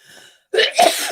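A person sneezes or coughs once, loudly and close by, during an art livestream; a quiet pause precedes the burst, which trails off briefly afterward.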